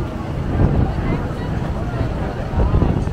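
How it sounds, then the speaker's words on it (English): Gusty wind at a Manhattan street festival buffets the microphone in low rumbling bursts, swelling and easing, with faint activity in the background. "It's windy."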